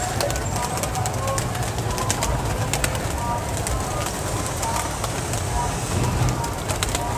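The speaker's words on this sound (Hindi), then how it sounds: "जब ये कबूतर नीचे आते हैं ना तो बड़ा ही मज़ा आता है, बड़ा इंजॉय है इनकी आवाज़, पड़ों की आवाज़" A flock of pigeons coos in a low, continuous murmur close by, with occasional fluttering wingbeats mixed into the busy outdoor background.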